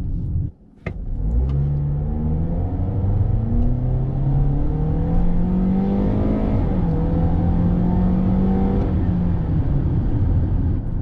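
A Toyota RAV4 with its Dynamic Force engine accelerating hard from a steady drone, the revs climbing smoothly in one long rising sweep, loud and close from inside the cabin, then easing off near the end.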